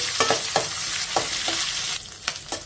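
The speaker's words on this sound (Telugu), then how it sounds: "ఉల్లిపాయ ముక్కల్ని ఒక 2 నిమిషాలు వేగనివ్వాలి." Chopped onion frying with curry leaves in a hot pan, a dense nearby sizzle broken by several clinking stirs, alone without talk.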